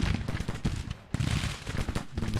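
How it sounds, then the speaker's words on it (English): Rapid, overlapping cannon and musket reports from 12-pound howitzers in the Civil War strategy game Grand Tactician during the Battle of Nashville, a continuous rumbling barrage of booms with no pauses. "12-pound howitzers are firing at the 1st Brigade."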